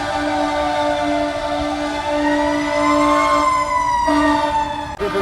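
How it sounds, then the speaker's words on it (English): A loud emergency vehicle siren wails continuously, its rising and falling tones close by and steady for several seconds with no talking, near a shooting scene in Raleigh, North Carolina. "Damn, them sirens loud as hell."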